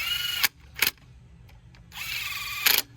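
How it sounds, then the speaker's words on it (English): Cordless impact wrench snugging spark plugs on a 2019 Chevrolet Equinox, heard as three short, loud, close bursts of whirring and rattling impacts with quiet pauses between them. "Running an impact till they stop."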